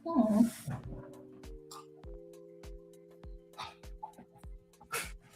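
A dog whimpers and snuffles in short bursts while biting its bed, with soft rhythmic thumps and chewing-like noises close by.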